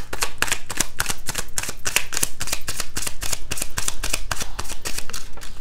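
A deck of tarot cards is riffled and shuffled by hand in a steady run of crisp, rapid flutters, close and clear, repeating rhythmically for several seconds with no talking.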